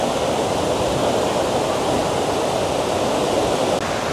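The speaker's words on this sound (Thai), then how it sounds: "นี่คือตาดกวางสีเนาะน้ำตกตาดที่งามที่สุดในเมืองหลวงพระบาง" Kuang Si waterfall near Luang Prabang, Laos, pours in a steady, dense roar of falling water that fills the scene evenly from start to finish, with no voices heard over it.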